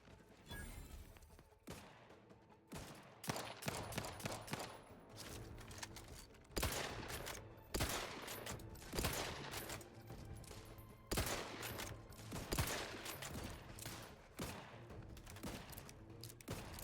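Bursts of gunfire and rapid volleys crack through a firefight in the video game The Outer Worlds, with dense overlapping shots and thuds continuing throughout.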